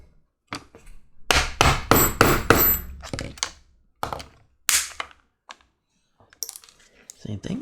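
A hammer strikes a Heritage leather rivet setter to set rivets on a leather percussion cap box, in quick clusters of sharp metallic taps followed by sparser single blows, loud and close.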